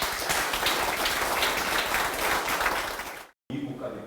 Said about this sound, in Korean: 이종명 의원님께 존경의 박수를